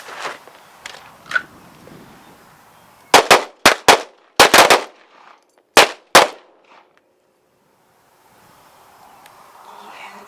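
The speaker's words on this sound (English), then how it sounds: "we're going to shoot 2 rounds" Pistol shots from a defensive handgun drill at a shooting range: a pair of sharp cracks, then a rapid burst of several more, then two final shots, loud and close, with quiet shuffling before and after.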